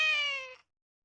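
A single short meow from a cat, clear and close, sounding alone and fading out quickly into silence.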